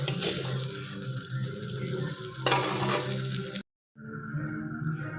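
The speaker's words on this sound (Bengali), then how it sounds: "তারপরে সয়াবিনগুলোকে দিয়ে এই যে দেখো ভালো করে ভেজে নিলাম" Soybean chunks frying in hot oil with onion and dried chili give a steady, close sizzle with scraping stirs, briefly cut to silence before the frying resumes more softly.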